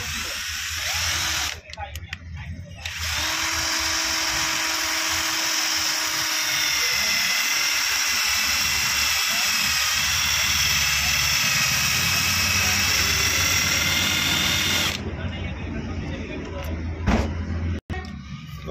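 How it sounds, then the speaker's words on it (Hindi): Electric drill boring holes into an LPG gas cylinder being fitted to a Maruti Suzuki Eeco car, a loud continuous high whine that holds steady for over ten seconds before cutting off, with a brief clank near the end. "तो दोस्तों अब इसमें होल हो चुके हैं, अपनी ड्रिल पूरी अंदर तक जा चुकी है इसमें।"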